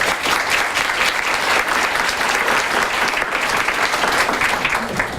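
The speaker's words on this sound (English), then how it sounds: "So could y'all give them a round of applause?" Steady, dense applause from a breakfast audience at a student of the month event, loud and sustained with no pauses, and a faint crowd murmur mixed under the clapping.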